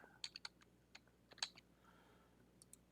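Computer keyboard keys tapped in quick, irregular bursts of close, crisp clicks, quiet and with no one talking.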